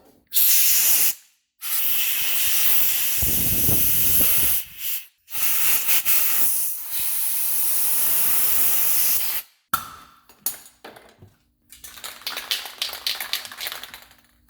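Compressed air blasts loudly around the rusted suspension area of a 2006 Subaru Impreza WRX, in several long bursts with short pauses, then sputters and hisses unevenly toward the end.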